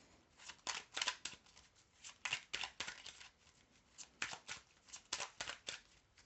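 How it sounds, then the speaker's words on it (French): Tarot cards are shuffled close up in repeated bursts of crisp riffling and flicking, in uneven rhythmic runs, with no voice over them. "Bon, allez, je remélange. Et on va tirer les 7 cartes."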